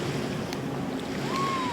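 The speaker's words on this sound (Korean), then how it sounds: "시원한 바닷바람에 모터보트에 탄 승객들의 환호성이 쏟아집니다" Motorboat out on the open sea with steady wind and wave wash, a continuous loud rushing roar with engine hum throughout and no voices.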